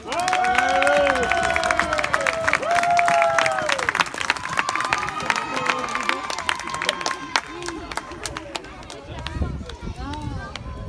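Spectators at a medieval jousting tournament in Auvergne, France, clap vigorously and cheer, with loud voices rising above the dense applause that slowly eases off toward the close.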